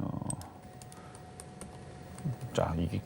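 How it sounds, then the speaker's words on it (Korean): Quick keystrokes on a computer keyboard tap close by under a man's speech, a short run of clicks followed by a louder rattle of keys near the end. "제가 그러면 왼쪽에 있는 컴퓨터로 코드 번호를 치면 되거든요"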